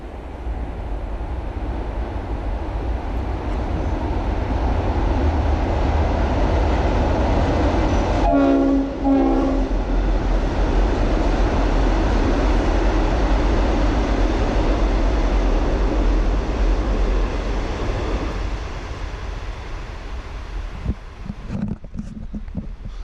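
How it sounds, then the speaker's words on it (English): A loud, steady train rumbles past nearby for most of the clip, with a short horn blast partway through and heavy rolling noise over a bridge in Wangaratta. "There's a train coming."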